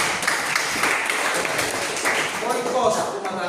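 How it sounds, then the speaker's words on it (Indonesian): Students in a classroom applaud a classmate with a steady patter of clapping that lasts a few seconds, with voices chattering underneath. "Tepuk tangan buat dia loh."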